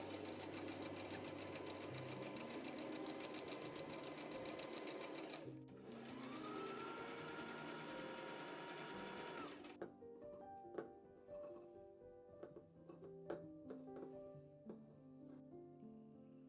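A sewing machine stitches bias tape onto an 18th-century style morning robe sewn from a secondhand tablecloth, running in long steady bursts near the mic, pausing, then slowing into lighter, intermittent ticking stitches.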